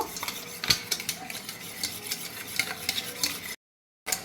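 A spoon stirs yogurt lassi with sugar and black salt in a glass, giving repeated close clinks and scraping taps in an uneven rhythm before a brief silence.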